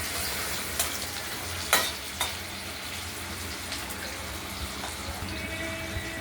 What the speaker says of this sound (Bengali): ভাজা হতে থাকুক।